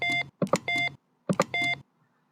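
Intercom beeping from an ELTIS DP5000 door panel in Garry's Mod: a few short, clean electronic tones in quick pairs, close and isolated, with brief silences between and no voices.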